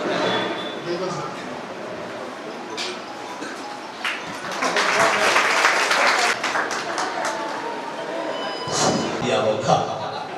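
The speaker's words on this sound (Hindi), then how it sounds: "ताली तो बजी" Audience applause at the opening ceremony of a healthcare and educational complex in Buxar, a crowd clapping in uneven bursts that swell midway, with voices talking and murmuring over and around it.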